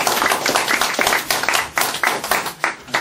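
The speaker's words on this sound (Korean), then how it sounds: "박수!" Clapping from a lecture audience, with rhythmic, fairly loud hand claps in bursts, close by and sustained for a few seconds with no speech over it.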